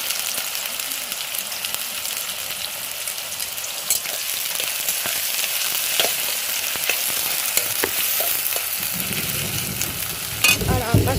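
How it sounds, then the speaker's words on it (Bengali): Onions sizzle steadily in hot white oil in a kadai, a continuous close-up crackle with occasional sharper pops and a low rumble swelling near the end. "পেঁয়াজটা ভাজবো।"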